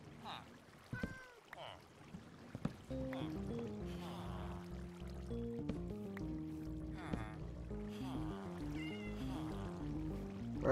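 A cat meows a few times in a video game over soft background music, the cries short and clear, with a person talking at points.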